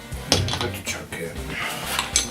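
Metal clanks and knocks as a chuck is fitted onto a Nova DVR wood lathe after the faceplate is removed, a few sharp close clatters over a steady background.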